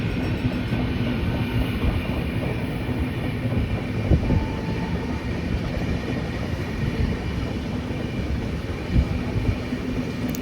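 The 12338 Bolpur–Howrah Shantiniketan Superfast Express runs at speed with a continuous, close rumble and a faint wheel clatter on the rails. No voices are heard.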